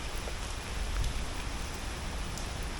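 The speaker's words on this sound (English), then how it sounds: "We are very heavily being rained on right now." Heavy rain pours down steadily on walkers along the Camino de Santiago between O Cebreiro and the Camino Francés, a dense, constant hiss with close drops hitting nearby surfaces and no voices.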